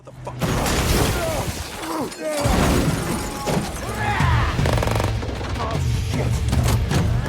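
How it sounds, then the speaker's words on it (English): Rapid bursts of gunfire at a car crackle alongside shattering glass and metallic impacts, loud and chaotic, over a dramatic background score. "Gunfire erupts as the attackers open fire on their vehicle."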